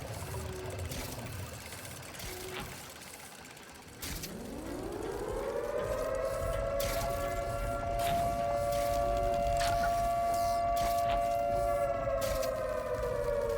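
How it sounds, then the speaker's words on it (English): An air raid style siren in the video game Watch Dogs Legion winds up from low to a steady rising wail and holds a long sustained tone over background game noise. "Looks sort of air raid style siren there."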